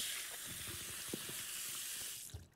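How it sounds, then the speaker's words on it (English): A bathroom tap runs with a steady close hiss of water, fairly faint, then cuts off near the end. "The water was loud."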